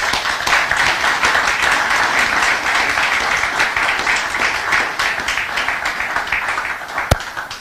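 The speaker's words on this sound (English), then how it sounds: "Please give them a round of applause." A crowd applauds steadily and loudly for several seconds, many hands clapping in a dense, continuous roar that tapers slightly at the end.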